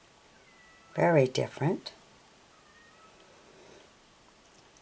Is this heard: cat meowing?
yes